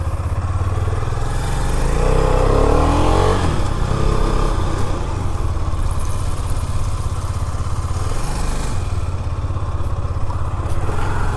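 Husqvarna Svartpilen 250 motorcycle pulling away in first gear, a steady close engine drone rising as it accelerates, with rushing wind and road noise throughout.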